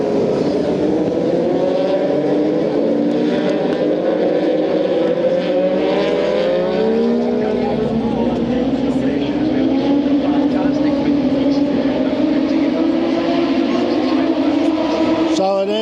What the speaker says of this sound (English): that is the warm-up lap, and there goes the safety car behind them